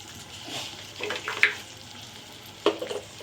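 Ground turmeric and spices frying in a pan for a village-style egg curry, a soft steady sizzle with a few sharp bursts of hissing and stirring scrapes, close by and alone.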